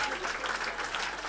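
Steady applause from a comedy club audience at a live stand-up show, a dense even patter of clapping filling the room without a break.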